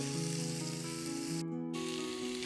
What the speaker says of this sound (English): So we'll let that saute for another minute or two.